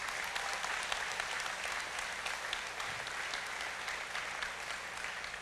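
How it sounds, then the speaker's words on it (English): An audience at a Choctaw State of the Nation address applauds, with steady, dense clapping from a large crowd throughout, heard from a moderate distance at a fairly low level. "Let's give them one more round of applause."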